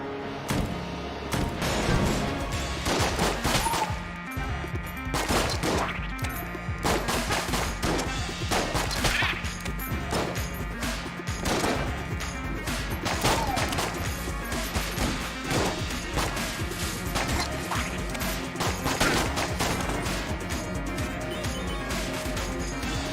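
Gunfire in a video game, a rapid string of sharp shots and crashes, some in quick bursts and some spaced apart, loud and close over a steady background from start to finish.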